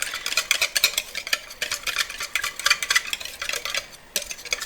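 Cornstarch whisked briskly in a small bowl, a rapid run of bright scraping clinks from the whisk against the bowl, close and steady with a brief pause near the end, and no talking.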